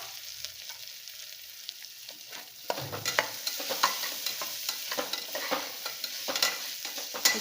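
Grated coconut is stirred in a frying pan with asafoetida and fried seasonings, giving a soft scraping and sizzling that grows busier partway through, with steady light scrapes and crackle to the end and no voice.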